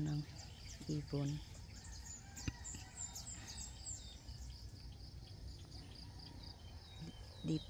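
Birds chirp and call in short bursts at dawn on a dragon fruit farm over a steady outdoor hum of insects, with a rooster-like crow early on.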